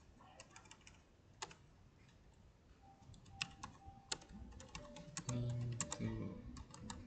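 Rapid typing on a computer keyboard, with irregular bursts of close, crisp key clicks and a few heavier keystrokes, alone against faint room noise.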